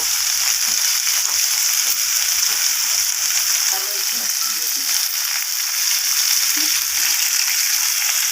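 Potato, pumpkin and red amaranth stems frying in a pan while being stirred, giving a loud continuous sizzle with intermittent clicking, scraping stirs throughout.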